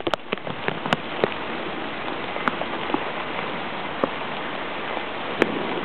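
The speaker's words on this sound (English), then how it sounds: "the rain seems to have died down" Rain falls steadily outside, a dense even patter with scattered louder drops striking nearby surfaces, continuous and fairly close with no voices.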